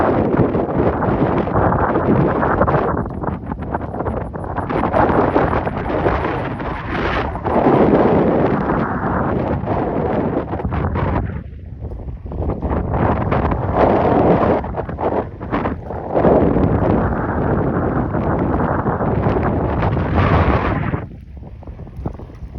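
Strong wind buffets the microphone in loud, continuous rumbling gusts, with brief dips and no voices.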